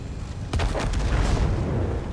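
A tank cannon fires in World of Tanks while driving the T-55 Thunderbolt, a single heavy boom about halfway in, followed by a rumbling low roar of engine and battle noise.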